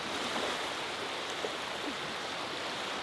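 Ocean waves wash on a winter beach as a steady broadband hiss, distant and unbroken, with no distinct crashes and no voices.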